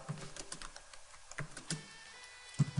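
Quick, uneven keystrokes tap on a computer keyboard, close and fairly quiet, in short bursts with brief pauses between them.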